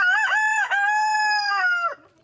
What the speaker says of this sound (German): Hühner gehören auch dazu.